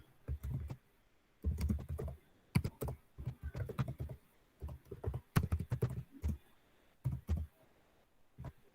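Fingers tap a computer keyboard while entering a search query, producing clustered bursts of close clicks separated by short pauses; no voices.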